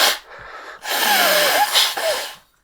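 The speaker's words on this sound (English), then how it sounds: "Can we do a timeout while I blow my nose?" A person with a stuffed nose blowing it hard, a close loud nasal honk with wet, congested rasp in two long blasts separated by a brief sniff.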